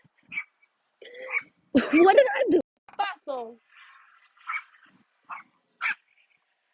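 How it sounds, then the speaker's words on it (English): Small dog giving short yips, barks and whimpers nearby on a walk along Castlehill Avenue, with a person talking in between. "Oh, you scared me, little doggy."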